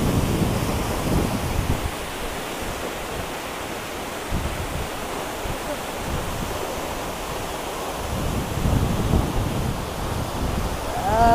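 Steady, loud rushing water roars throughout from Rupse Falls in Myagdi, Nepal, a dense continuous wash like a waterfall close by, with surges and dips in intensity and no voices.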